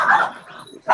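A dog on a video call gives two short, loud barks close to the microphone, with a quieter yelp between them.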